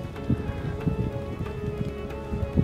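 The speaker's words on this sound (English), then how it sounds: "Started raining too." Rain falls in foggy cliff country on the Arctic Red River, with scattered drops tapping irregularly on nearby surfaces over a soft, steady wash.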